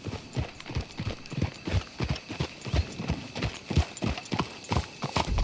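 Horses trot in Red Dead Redemption 2, a steady, close clip-clop of hooves in a quick regular rhythm running throughout, with faint speech in the background.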